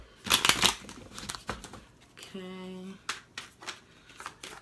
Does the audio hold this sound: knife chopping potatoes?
no